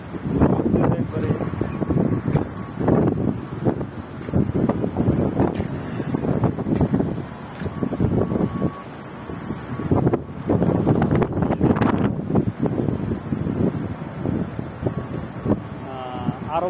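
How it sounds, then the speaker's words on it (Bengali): Strong, gusty wind roars steadily before rain in an Arab country, kicking up dust, a loud buffeting rush that swells and dips without pause. "আরব দেশে বৃষ্টি আসার আগে প্রচুর বাতাস, হাওয়া, এরকম অনেক বাতাস হয়।"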